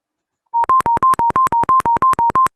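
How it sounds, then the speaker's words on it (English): A short synthetic alert earcon for a rail crossing warning: twelve rapid, evenly spaced electronic beeps alternating slightly in pitch, loud and clean, starting after a brief silence. "earcons, which are short synthetic tones"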